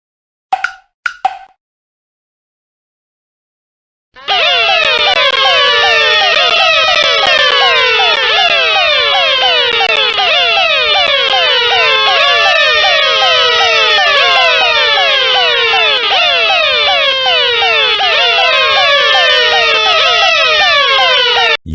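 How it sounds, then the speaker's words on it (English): A school fire alarm rings after being pulled, starting with a few short beeps, then a loud, continuous whooping electronic siren that repeats in a steady rising pattern for many seconds. "I'm going to pull down the fire alarm."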